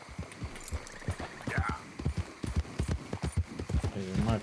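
Horse hooves clip-clop in Red Dead Redemption 2, a steady rhythmic run of soft thuds at moderate distance, heard together with game ambience and a brief tonal sound near the end.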